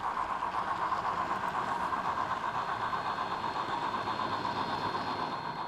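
Union Pacific FEF-3 steam locomotive No. 838 running with freight, heard as a steady, continuous rumbling drone at moderate distance, with no distinct beats standing out and no talk.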